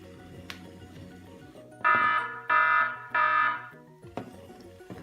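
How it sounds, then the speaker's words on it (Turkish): A toy robot's electronic alarm beeps three times in loud, even pulses, followed by a shorter burst, amid faint mechanical whirring. "Sonra da alarm çalacak."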